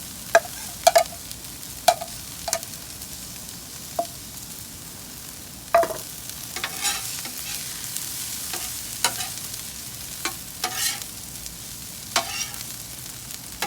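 Fried rice with teriyaki chicken and egg being mixed on a Blackstone griddle with a metal spatula, a steady hiss of frying under repeated sharp scrapes and taps of the spatula against the flat steel surface, with no talking.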